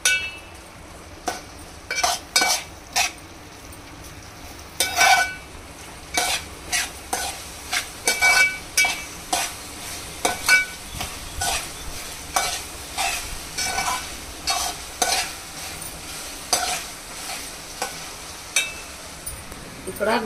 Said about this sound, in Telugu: బాగా అల్లం వెల్లుల్లి పేస్టు పచ్చివాసన పోయేంత వరకు మనము ఫ్రై చేసుకొని అప్పుడు అది వేస్తే కర్రీ బాగుంటుందండి